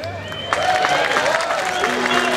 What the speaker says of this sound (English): it's okay to cheer and holler a little bit, especially for this guy